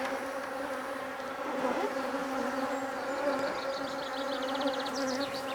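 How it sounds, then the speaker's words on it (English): Honey bees hum in a dense, continuous drone around a feeder on a hive after a shook swarm, close to the ear. The buzz holds steady, with faint extra whines from bees flying past. No one speaks. "just brush the bees away so that we don't crush any"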